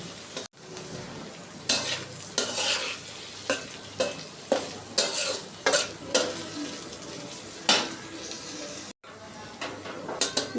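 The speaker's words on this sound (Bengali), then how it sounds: "এখন চিংড়ি মাছ দিয়ে ভালো করে কষিয়ে নেব।" Shrimp cooks down with spices in a pan, a soft sizzle under repeated scraping strokes of a spatula that come in uneven bursts, moderately close with no talking.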